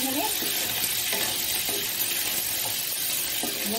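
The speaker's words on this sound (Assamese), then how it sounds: "অলপ দেৰি ভাজি ল'ম এইখিনি" Ginger, garlic and onion sizzle steadily in hot oil in a wok, a continuous close frying hiss with occasional stirring scrapes and no talk.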